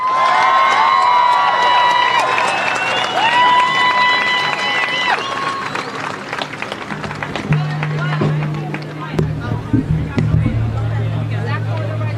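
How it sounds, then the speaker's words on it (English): Crowd at a ceasefire rally at the US Capitol breaks into loud, sustained applause and cheering, with dense clapping, whoops and a few whistles filling the space. "So join me, please, in giving a warm round of applause to Congress people Rashida Tlaib and Cori Bu"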